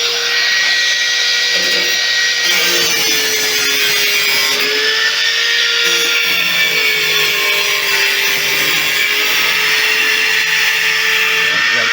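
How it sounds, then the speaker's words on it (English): A power tool grinds through a metal flange on a rusted washing machine, a loud, continuous high whine with a wavering tone that dips and shifts as the cut progresses, close and alone. "Cutting off this flange here."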